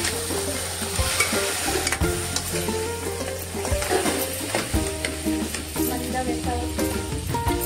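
Stuffed crabs sauté in tempering oil with ginger-garlic paste over low heat, sizzling steadily up close while a spatula scrapes and knocks against the pan again and again.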